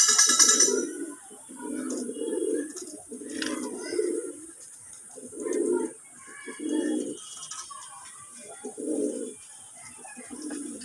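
Andhra tippler pigeons coo in a steady series of low, throaty phrases about a second apart, moderately close, over a constant high background whine.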